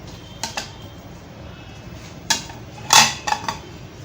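Garam masala powder is mixed into a chicken wing marinade in a bowl with a utensil, producing a few sharp clinks and scrapes against the bowl, separated by quiet gaps.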